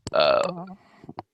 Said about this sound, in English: It's the hinge on my microphone.